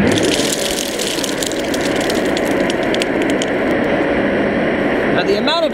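Four-inch bilge fans blow air through a 30-foot hose on a homemade beer-can and pop-can forced-air heater. The result is a loud, steady whooshing drone that holds even throughout.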